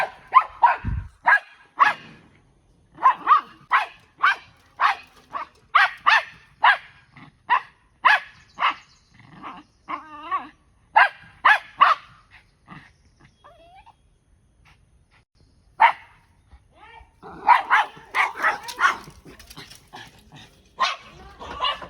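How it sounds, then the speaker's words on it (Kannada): A dog barks repeatedly in sharp, rhythmic bursts close by, pauses briefly with a few whimpering sounds, then resumes a rapid flurry of barks. "ನಮ್ಮ ನಾಯಿ ಒದರ್ಲತ್ತದ"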